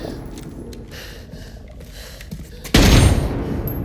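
Heavy gunfire erupts in a movie scene after a stretch of low rumbling ambience, a sudden loud burst of shots and booms that continues as a dense, sustained barrage.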